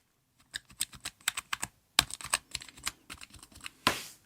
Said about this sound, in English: If I start pressing some of the keys, you've got that membrane top on there that basically dampens the keys.